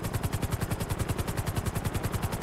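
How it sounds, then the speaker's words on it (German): A helicopter in GTA V, its rotor giving a steady, fast rhythmic chop that throbs evenly throughout at a moderate level, with no talking. "Wir haben meinen Hubschrauber."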